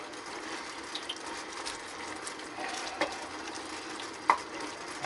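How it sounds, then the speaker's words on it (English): Vegetables being stirred into a thick garlic sauce in a pan with the heat off, a soft steady scraping murmur with a few faint clicks and one sharper knock of the utensil near the end. "You can shut this off and just stir these vegetables into the sauce."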